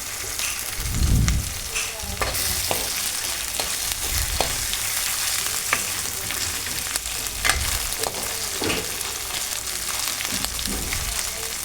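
Ginger garlic paste sizzles steadily in a hot pan for a tomato egg curry, a dense continuous frying hiss broken by a few low stirring thumps and scrapes, with no voices over it.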